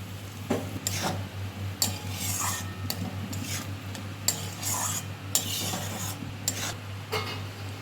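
A spoon repeatedly scrapes and clinks against a pan as spices are stirred, with irregular strokes over a soft steady hum.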